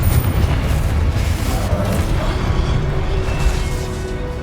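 Dense, rumbling magical blasts from the Confringo spell in Hogwarts Legacy, a continuous loud boom-heavy roar with overlapping impacts.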